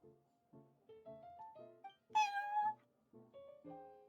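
Cat meows from the Genshin Impact video game: a run of short, tonal mews in a steady rhythm with one longer, louder, higher call in the middle, clear and close with no talk.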